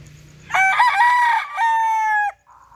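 A gamefowl rooster crows loudly nearby, one full cock-a-doodle-doo call lasting under two seconds with a drawn-out ending, over faint farm background.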